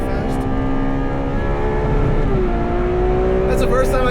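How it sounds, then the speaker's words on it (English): A Ferrari 812 Superfast V12 revs hard toward redline, loud and close, its pitch climbing steadily and then holding high, with a brief lift near the end. "That's the first time I hit red line."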